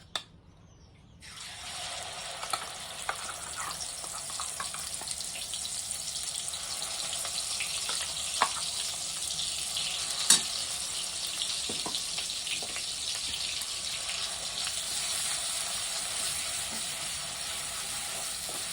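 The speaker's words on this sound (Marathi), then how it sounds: "आता ह्याला तेलामध्ये चांगलं तळून द्यायचं आपल्याला" Ground coconut masala fries in oil in a wok for dry chicken, a loud continuous sizzle that starts suddenly and holds steady close by, with occasional stirring scrapes and no talk.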